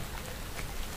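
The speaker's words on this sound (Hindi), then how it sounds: "बारिश हो रही है।" Steady rain falling as a dense, even hiss of drops, continuous and moderately loud with no pauses.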